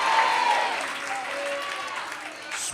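A church congregation clapping, a broad patter of applause that fades under a preacher's voice and then briefly rises again.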